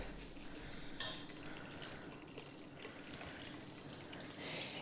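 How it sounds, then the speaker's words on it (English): Organic beef broth being poured into a soup pot, a soft continuous liquid gurgle and splash with faint clinks, quiet and steady throughout, no talking. "So I'm just gonna go ahead and pour some of that right in there."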